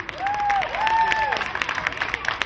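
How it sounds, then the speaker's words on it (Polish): An audience applauds children at a 2013 movement-week event in Straszyn, with scattered clapping rising briefly beneath a few whistle-like tones. "Jeszcze raz gorące brawa"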